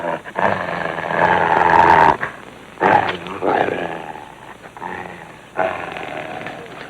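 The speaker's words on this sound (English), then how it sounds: "That's a dog." A mean-looking dog, big enough to pass for a wolf, growls low and rough in bursts with brief pauses between, fairly close, with no talk over it.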